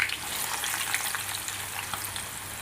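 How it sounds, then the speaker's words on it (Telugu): Chopped onions fry in hot oil until golden for chicken dum biryani, giving a bright, continuous sizzle with crackling pops close by and no voices. "ఆయిల్ కాగిన తర్వాత ఆయిల్లో వేసుకొని గోల్డెన్ రంగు వచ్చే వరకు"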